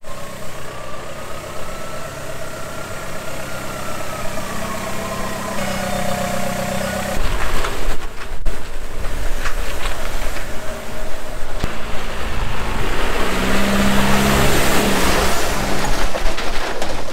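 A farm vehicle engine towing a livestock trailer runs steadily at close range, a loud droning rumble that grows heavier and rougher partway through, with rattles and vibration.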